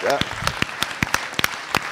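Scattered, distinct hand claps ring out at a festival panel with actors and a director, a sparse uneven round of applause following a brief voice at the start.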